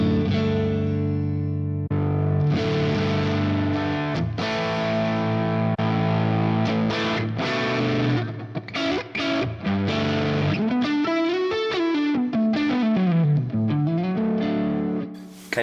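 Electric guitar run through a Fractal FM3 effects processor preset, heavily distorted with chorus and reverb, playing sustained chords and then a rising and falling lead line, loud and continuous with no talking.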